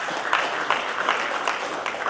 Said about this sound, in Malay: Satu tepukan untuk DBP.